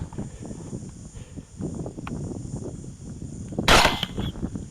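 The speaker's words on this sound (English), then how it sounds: "That was a double lung shot." A single rifle shot during a hog hunt rings out as a sharp, loud crack midway, set against outdoor background rumble and movement.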